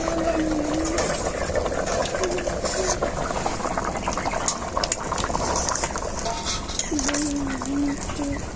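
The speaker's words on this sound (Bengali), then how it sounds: "ঝোল খুব ভালোভাবে ফুটে গেছে" Mutton broth boiling hard in a pot, a dense continuous bubbling close by, with occasional voices in the background.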